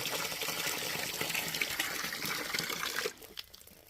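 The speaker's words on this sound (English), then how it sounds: "I just filled up a bucket of water" Water pours steadily into a bucket on a farm in a close, splashy gush, then cuts off abruptly near the end, leaving a few faint drips and quieter background.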